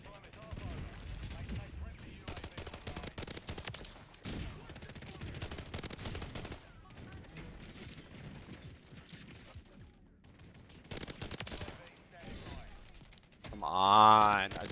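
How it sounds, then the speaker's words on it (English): Call of Duty MW3 gameplay with a grenade launcher and gunfire, bursts of shots and fusillades at moderate loudness, ending in a louder blast near the end. "Oh wait, I have a grenade launcher here."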